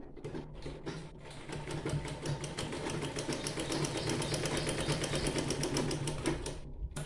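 A sewing machine runs steadily for several seconds, its rapid needle stitching forming a continuous mechanical whir as it sews a collar dress, close and alone without talk.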